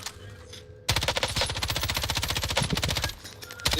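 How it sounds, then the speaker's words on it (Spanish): A rapid burst of automatic gunfire in a video game erupts after a short pause, rattling steadily for about two seconds before tapering off, loud and close. "Monorra, me pegó el balazo."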